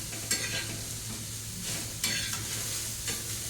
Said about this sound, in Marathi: कांद्याला पण ब्राऊन कलर येईपर्यंत भाजून घ्यायचं आपल्याला.